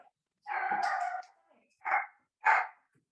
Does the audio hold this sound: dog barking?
yes